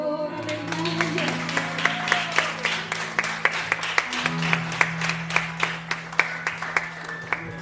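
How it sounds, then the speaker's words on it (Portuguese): A church congregation claps in steady rhythm to worship music, evenly spaced sharp claps about twice per second over sustained singing and organ-like tones. "Aplauda o Senhor, aleluia."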